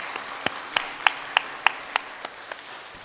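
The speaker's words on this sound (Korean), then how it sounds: "하나님께 영광의 박수 함께 올려드리겠습니다." A church congregation at a Korean Sunday morning worship service claps in slow, evenly spaced unison beats, about ten sharp claps in a steady rhythm over a faint room background.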